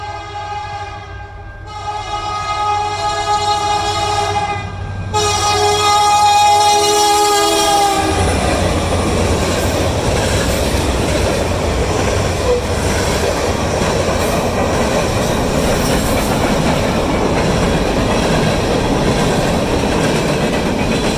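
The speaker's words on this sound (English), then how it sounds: "I hear a train coming" A steam train's horn blares in long tones as it approaches on railroad tracks, then a loud, continuous rumble and clatter of wagons rolling past nearby.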